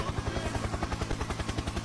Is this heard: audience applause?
no